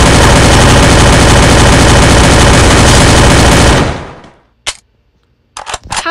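Battle royale video game gunfire, a loud dense burst of continuous automatic fire that stops abruptly, followed by a single shot and then a couple of short bursts near the end.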